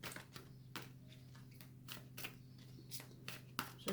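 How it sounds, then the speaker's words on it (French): Tarot cards shuffled by hand, a quiet run of soft riffling flutters and taps repeating in short bursts over a steady low hum, close and faint. "Pendant que je bats les cartes"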